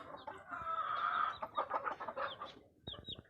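A hen hatched in spring 2020 clucks nearby in winter in a run of short, throaty calls, fairly quiet, with soft rustling in the background.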